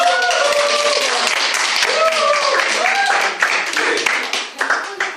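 A church congregation applauds at a New Year's Eve watch-night service right after the midnight countdown into 2016, with dense, steady clapping that thins out toward the end and voices mixed through it.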